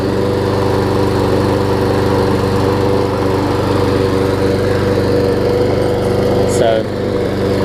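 A Troy-Bilt self-propelled walk-behind lawn mower runs steadily after a cold start, its small engine droning loud and close without letup, with a brief shift in tone near the end.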